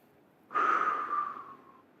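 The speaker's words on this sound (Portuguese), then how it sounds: "Agora, olhando para cima, puxe a respiração novamente e solte." A single breath drawn in and let out while looking upward, a soft close airy rush that swells quickly and tapers away over about a second and a half, with no talking.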